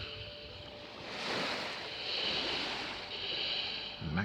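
Sea waves surge in a broad roar, swelling and receding over a few seconds, mixed with wind buffeting the microphone, fairly close and continuous.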